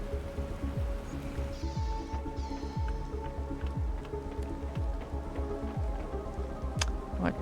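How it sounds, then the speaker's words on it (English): Steady rain falls in the survival game The Planet Crafter, a dense continuous patter with repeated soft low thumps and faint tonal game sounds layered over it, no voices. "Okay, we got our rain. This looks like normal rain."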